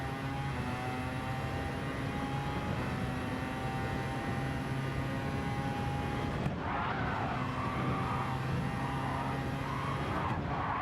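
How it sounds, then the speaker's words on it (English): A race car in a racing game lapping the Nürburgring, its engine whining steadily and loud with tyre squeal as it oversteers and skids, plus a sharp shift in pitch partway through. "Oh, oversteer. Hello, oversteer."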